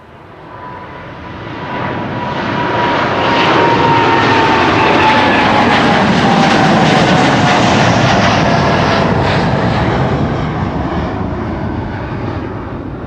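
KLM airliner PH-BKL, flight 601 to LAX, takes off at Amsterdam Schiphol with a loud, steady jet roar and a gliding engine whine, swelling over a few seconds, holding, then tapering near the end.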